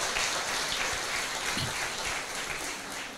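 A church congregation claps together in a continuous, rain-like wash of applause that stays dense and even from start to finish.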